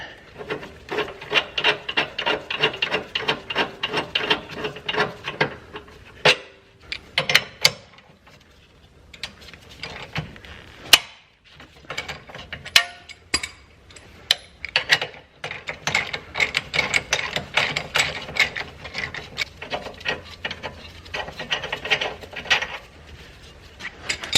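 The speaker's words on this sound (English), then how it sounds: "Now I'm just going to unbolt it." A rear coilover mount on a C4 Corvette being unbolted, heard as long runs of rapid ratchet clicking and metallic rasping, with a few brief pauses and sharp knocks, close up.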